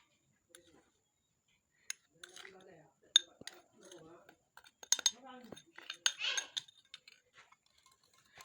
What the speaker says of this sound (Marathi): हे मिक्स करून घेऊया चांगलं.